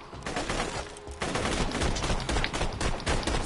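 Sustained automatic assault rifle fire in Borderlands 2, a dense rapid stream of loud close shots that starts fairly strong and thickens after about a second, running unbroken without talk.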